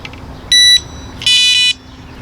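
Electronic carp fishing bite alarm on a canal bank, two short piercing high-pitched buzzing tones, the second slightly longer, sounding close and loud over faint quiet background.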